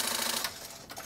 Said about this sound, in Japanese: またこの返しミシン本当にすごいな